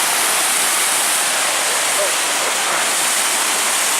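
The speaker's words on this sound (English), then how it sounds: "Pretty cool waterfall." A waterfall roars steadily and loudly throughout, a dense rushing wash of falling water close by.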